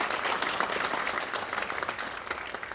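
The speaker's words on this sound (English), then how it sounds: "But a round of applause for Pete" Audience applause for a musician at a Marine Corps birthday gala, a dense, steady patter of many hands clapping from a crowd, moderately loud and continuous without speech.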